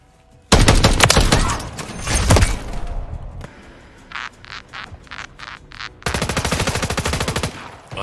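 Rapid automatic gunfire in a Call of Duty: Modern Warfare III multiplayer match, with loud sustained bursts, a string of short evenly spaced pops, and a final dense burst, all close and dominant.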